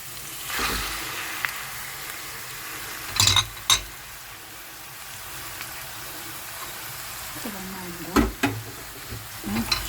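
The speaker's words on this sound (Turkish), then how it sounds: "Arkasında etimi koyuyorum şu an." Meat goes into a pan of cooking mushrooms with a soft, low sizzle, broken by a few sharp utensil clatters against the pan.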